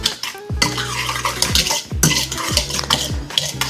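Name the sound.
stirring lemon bar filling with zest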